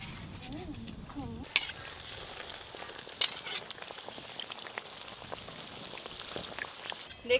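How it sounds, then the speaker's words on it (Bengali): Eggplant fritters (beguni) frying in hot oil in a village kitchen, a soft steady crackling sizzle with occasional sharper pops and clinks, fairly quiet throughout. "এইভাবে সব বেগুনিগুলো ভেজে নেব।"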